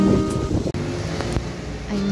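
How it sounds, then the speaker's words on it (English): Strong wind buffets the microphone outdoors, a steady loud rushing roar with a brief dropout, no voices. "It's super windy out here."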